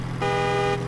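A single sustained horn blast from a modded truck in Farming Simulator 22, loud and steady for about half a second over a low engine hum.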